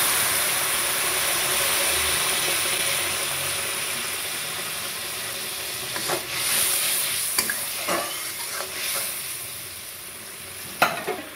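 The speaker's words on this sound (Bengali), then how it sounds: "এবার আমি গরম জলটা ঢেলে দিচ্ছি।" Hot water hissing and sizzling as it is poured into a hot pan of frying food in a home kitchen. The steady hiss has a few scraping stirs and clinks near the end.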